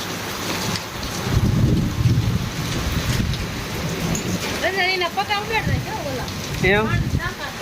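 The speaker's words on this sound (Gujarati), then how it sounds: "અત્યારે જો વરસાદ આવે ધીમો પડી ગયો" Rain driven by strong gusting wind during an out-of-season summer storm, a continuous rushing roar with bursts of noise, while people talk over it throughout.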